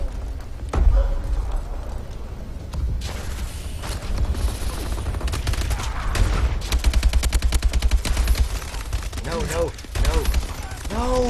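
Gunfire in the video game Call of Duty: Advanced Warfare, with rapid automatic bursts and single sharp shots piling up continuously during a multiplayer match, loud and dense, with little talk.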